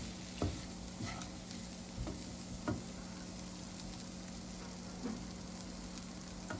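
Mushroom filling with amchur powder is stirred in a pan, a faint low sizzle with a few soft, spaced stirring knocks over a steady hum.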